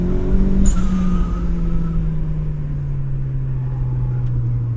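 A turbocharged Miata race car accelerates hard down a track straight, its engine drone loud, close and steady as the pitch climbs and settles, with a brief whistle early on.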